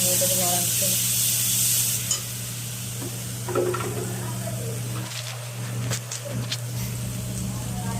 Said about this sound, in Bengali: জিরে গুঁড়ো দেওয়া হচ্ছে এবং জিরের গুঁড়ো চলে গেলে এর মধ্যে এটাকে নাড়া হচ্ছে।